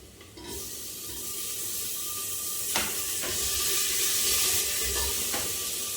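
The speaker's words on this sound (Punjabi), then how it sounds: "ਇੱਥੇ ਕੱਦੂ ਨੂੰ ਤੜਕਾ ਲਾਇਆ ਸੀ ਮੈਂ" Hot oil hisses and sizzles continuously as a tempering for pumpkin fries, with a few sharp crackles and spits standing out over the steady hiss.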